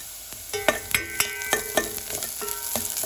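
Onions frying in a pan for a Goan squid curry, with a steady sizzle broken by repeated sharp scrapes and knocks of a spoon being stirred through them, close and moderately loud.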